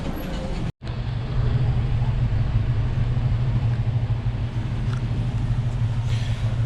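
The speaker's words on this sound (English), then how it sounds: "So I think this is the bus station," Vehicle engines rumble and idle at a bus station, a steady low drone that continues after a brief dropout near the start.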